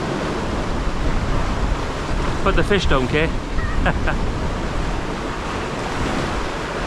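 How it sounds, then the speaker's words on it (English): Stormy surf and gusting wind at Oxwich Bay on the Gower roar steadily close to the microphone, with a swell breaking continuously while someone speaks briefly over the noise. "Yeah, it's quite stormy. Bit of a swell out there."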